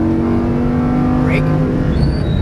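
A Lamborghini Huracan LP610-4 on a track called The Playground pulls hard on throttle, its engine holding a loud, steady drone close by while an instructor's voice cuts in over it.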